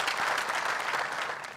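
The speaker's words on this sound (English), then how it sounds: "I think we really need to clap for these people." A crowd at a graduation commencement ceremony claps steadily for the graduates, a full, continuous wash of applause that fades slightly toward the end.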